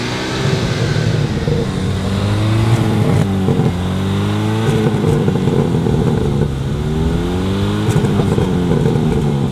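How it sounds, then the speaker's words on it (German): A Hyundai i20N engine roars at high revs, bouncing against the rev limiter in rapid stuttering pulses, loud and close throughout. "Nein, das war ja Drehzahlbegrenzer, Digga."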